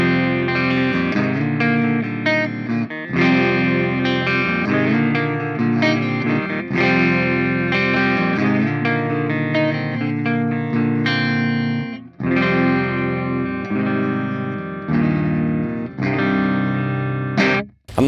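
Distorted electric guitar through a Hotone Ampero ONE amp modeler with a Bogner 4x12 cab, playing chunky gritty chords and riffs with brief pauses between phrases.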